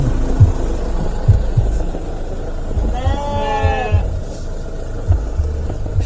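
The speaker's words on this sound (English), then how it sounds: "Sheep in this one." A sheep bleats once in a wavering cry midway through, heard amid the low rumble, knocks and shuffling of pens at a Norfolk livestock market.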